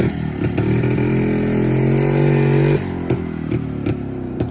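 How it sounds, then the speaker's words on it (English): An old two-stroke motorcycle engine runs loud and close at a classic car and bike breakfast meet, a steady buzzing idle that rises briefly in pitch before dropping back, with clattering ticks throughout and no talking. "There's just something about kickstarting an old 2-stroke that never gets old."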